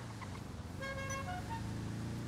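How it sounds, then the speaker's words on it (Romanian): A car horn blares repeatedly in GTA, a steady multi-tone honk over a constant low engine hum, loud and close. "Ce dracu e claxonul ăsta?"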